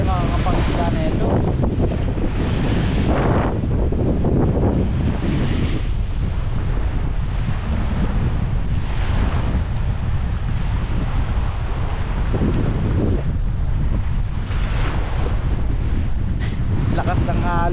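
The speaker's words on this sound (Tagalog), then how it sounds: "Grabe naman lakas ng ampas ng alon." Strong wind buffets the microphone while heavy surf pounds a New Zealand beach at Weymouth, a loud, continuous roar with surging swells throughout.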